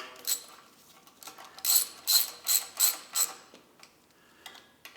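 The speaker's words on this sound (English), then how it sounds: "We'll take and tighten these down. I'm going to do it evenly." A ratchet wrench tightens bolts on a Farmall Super H tractor during restoration: a close, crisp series of about eight clicking pawl strokes in an even rhythm, with no talking.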